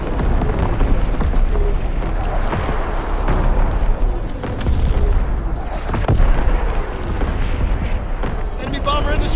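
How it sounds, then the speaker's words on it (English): Incoming enemy artillery in Call of Duty WWII multiplayer on the Gibraltar map: rolling explosions and deep booms pound continuously amid scattered gunfire, loud and dense, with voices talking over the battle. "Incoming enemy artillery."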